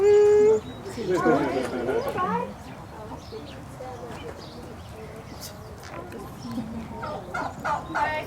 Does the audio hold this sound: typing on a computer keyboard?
no